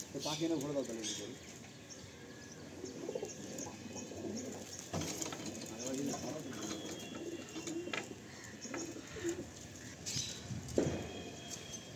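Pigeons in a loft make soft, repeated cooing, rising and falling through a fairly quiet scene, with a few sharper sounds mixed in.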